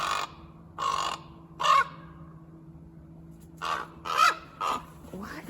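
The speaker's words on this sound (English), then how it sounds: "this raven is just raising a hell over in that tree" A raven caws harshly from a tree near a garden where lettuce is being harvested, three loud rasping calls, a pause, then four more, over a steady low background hum.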